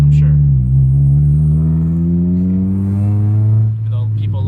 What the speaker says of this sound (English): It's not the worst Honda exhaust you've heard, I'm sure.